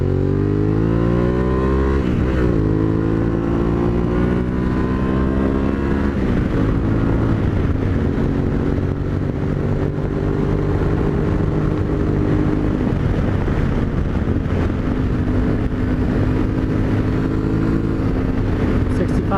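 Yamaha Tenere adventure motorcycle on Dunlop D908RR rally tires running at high speed on a highway, loud steady engine drone with rising and falling pitch through gear changes, overlaid by wind rush.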